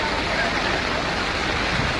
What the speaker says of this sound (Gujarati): અહીંથી સોસાયટીમાં અંદર પાણી જાય.